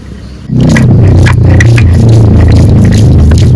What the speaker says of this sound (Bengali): একটু আদাটা বেটে নিচ্ছি, রসুনগুলো বেটে নিচ্ছি